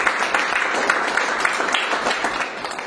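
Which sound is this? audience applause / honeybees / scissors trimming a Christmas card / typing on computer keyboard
audience applause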